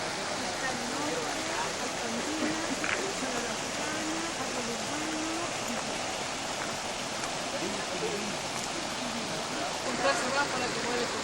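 Clarillo river flowing in a steady, unbroken rush of water that fills the whole stretch, with faint murmuring voices now and then underneath.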